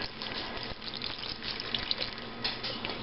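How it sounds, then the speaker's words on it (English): Water runs steadily from a tap into a pot of parsnips to cover them, a close, even splashing gush that continues without pause. "I'm going to put just enough water to cover them."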